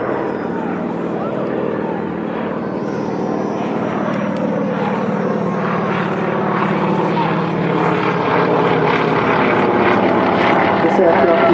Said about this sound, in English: Avro Anthem doing their overshoot on the runway.